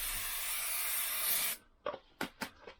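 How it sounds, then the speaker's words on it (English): A steady aerosol spray hisses continuously for about a second and a half into a Lambretta scooter tin, then stops, followed by a few short soft scraping or rubbing bursts. "I'm just going to spray in there"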